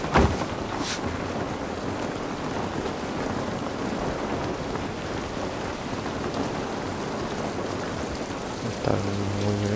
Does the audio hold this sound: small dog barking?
no